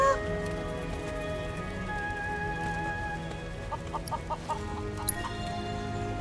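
Chickens in Final Fantasy VII Rebirth cluck in a quick run of short, bright calls over steady, tonal game background music.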